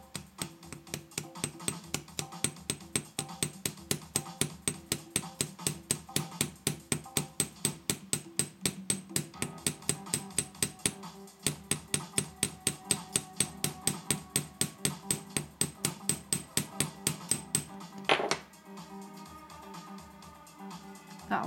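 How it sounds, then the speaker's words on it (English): A small hammer taps a silver rivet head on a handmade brooch pin, spreading it with a long run of quick, even, close metallic strikes, a brief pause midway, then a final few blows. "What you have to do when you rivet, I hope this will film okay, is spread that"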